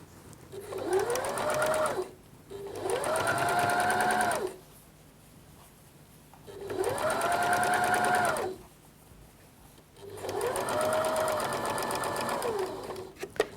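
A sewing machine straight-stitches a dress facing in four bursts of rapid, whirring stitching, each rising and falling in pitch, with short quiet pauses between them and no talk.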